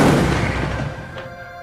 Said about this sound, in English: You're about to receive direct fire on the bow part of your ship.